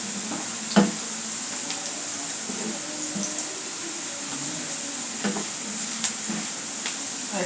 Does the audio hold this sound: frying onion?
yes